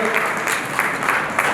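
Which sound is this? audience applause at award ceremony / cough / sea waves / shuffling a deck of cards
audience applause at award ceremony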